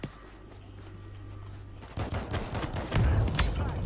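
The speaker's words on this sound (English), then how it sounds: "Anti-material rifle, get fucked." Anti-materiel rifle fire in the zombie shooter World War Z: after a quiet stretch, a loud burst of gunfire and chaotic combat noise erupts, with heavy sharp reports and rumbling impacts close by.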